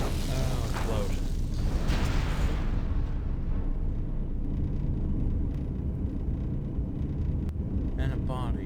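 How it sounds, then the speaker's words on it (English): Deep rumbling explosion in the video game Knights of the Old Republic 2, a loud boom that decays into a sustained low roar, with a voice talking over it. "Oh, explosions."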